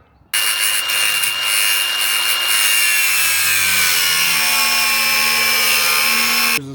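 A power tool cuts through a seized bolt on a Toyota Tacoma leaf spring, a loud, close, continuous high-pitched whine of metal cutting that starts abruptly and holds steady, with the pitch shifting slightly as it bites.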